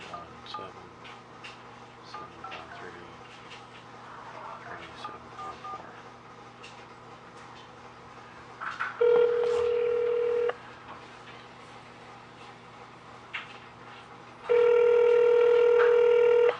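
Telephone call to a workers' comp manager, a quiet room with faint keypad taps followed by two loud, steady ringback tones separated by a pause, with low background hum.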